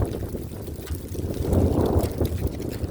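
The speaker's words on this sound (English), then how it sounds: "you hear that wind?" Gusting wind buffets the microphone outdoors on a nighttime walk, a steady low rumble that swells louder around the middle and stays close and continuous without talk.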